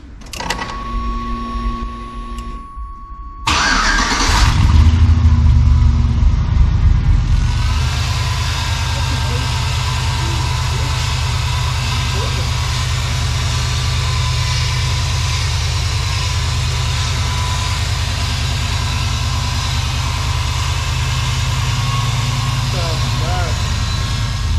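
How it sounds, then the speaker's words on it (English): A 5.3 LS V8 swapped into a 1985 Chevrolet C10 cranks with a whirring starter, catches and settles into a loud, steady idle nearby, running continuously after the first start; a few voices are heard briefly. "first start on the LS swap. See if it runs."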